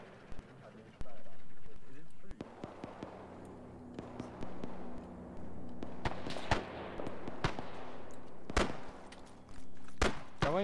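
Gunfire from a WW2 video game set in the Battle of Tarawa, with sharp cracks and bursts spread through the scene. The shots are fairly loud, with game ambience and other noise between them.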